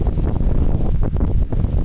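Strong wind blowing outdoors on a long walk toward Prestatyn, a loud, steady roar buffeting the microphone throughout with gusting swells and no clear voice.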